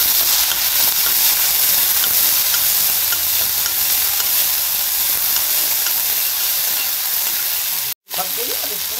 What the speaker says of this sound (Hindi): अब हम मेथी को तेल में थोड़ा पकाएं